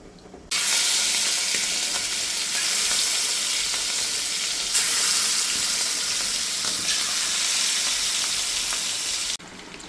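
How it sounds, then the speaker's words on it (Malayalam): Medium-sized prawns frying in hot, fully boiling oil for a Thalassery-style prawn biryani, giving a steady, loud broadband sizzle that starts abruptly and runs unbroken for several seconds before cutting off near the end. "എണ്ണ നന്നായി തിളച്ച് വരുമ്പോൾ നമ്മുടെ മീഡിയം സൈസിലായിട്ടുള്ള പ്രോൺസ് നമ്മളിതിൽ ഓരോന്നോരോന്നായിട്ടിട്ട് പൊരിച്ചെടുക്കും"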